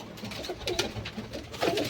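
Soft pigeon cooing rises and falls over a few seconds, several birds murmuring together nearby with steady background noise.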